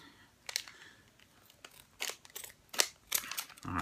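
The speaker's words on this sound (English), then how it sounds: "Trusty scissors." Scissors snip open a Disney-themed Power Disc blister pack, several short crisp cuts and crinkles of plastic packaging scattered across a few seconds, close and fairly quiet.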